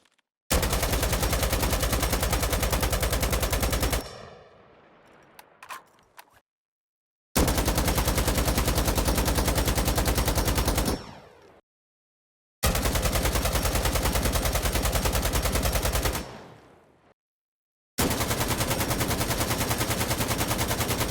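An AKM rifle fires in Insurgency Sandstorm in three long sustained full-auto bursts, loud and close, each separated by a short silence.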